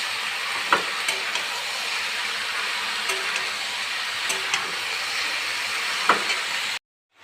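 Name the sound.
frying momo ingredients in a pan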